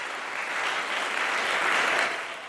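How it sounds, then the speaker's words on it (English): Audience at a synagogue Shabbat service applauds the drummer, a steady, dense round of clapping from many hands that holds evenly and swells slightly before easing off, with no voices over it. "can we clap now?"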